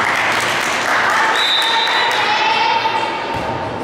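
A crowd claps steadily at a youth volleyball practice match in Ankara, loud and close, with voices calling out over the applause.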